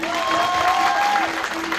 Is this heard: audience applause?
yes